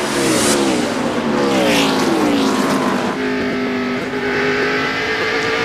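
NASCAR stock cars racing on track at the 2002 Pontiac Excitement 400, a loud continuous engine roar with rising and falling pitch as cars accelerate and pass close by throughout.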